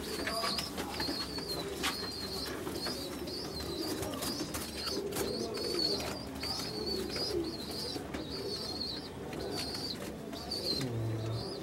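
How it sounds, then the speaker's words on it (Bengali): Colour pigeons in a loft in Kolkata give soft, repeated coos and faint chirps at a distance, murmuring steadily against quiet background noise. "এগুলো আমার আনা পায়রা"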